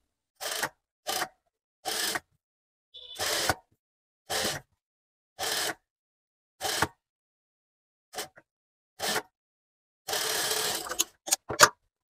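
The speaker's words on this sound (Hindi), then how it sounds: "अब हमने यहाँ पे इसको ऐसे फोल्ड करना है और एक कच्ची सिलाई लगा लेनी है" A sewing machine stitching a sleeveless blouse runs in short, evenly spaced bursts, each a second or less of mechanical whirring separated by silence, ending with a longer run and a few quick taps.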